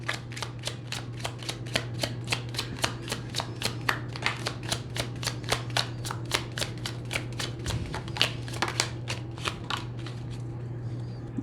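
Tarot cards shuffled in a steady run of crisp riffling flicks, about two or three per second, close and clear over a low steady hum, with no talking.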